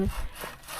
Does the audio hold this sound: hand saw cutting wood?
yes